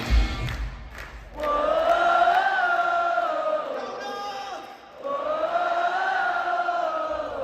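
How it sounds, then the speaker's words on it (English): A stadium crowd at a concert sings a refrain together in sustained, swelling unison, with a brief dip before the chant rises again; clapping along is not distinct beneath the massed voices. "The crowd begin to clap along and sing the refrain once again."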